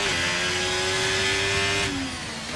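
Ferrari Formula 1 car engine running rough in an F1 racing video game at the Bahrain Grand Prix, a loud sustained high whine holding steady then dropping in pitch as it fades slightly.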